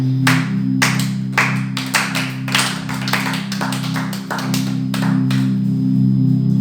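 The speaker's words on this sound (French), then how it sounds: "Est-ce qu'on peut acclamer pour cette parole?" A church congregation applauding, sharp clapping in uneven bursts over a steady low sustained tone, close and loud.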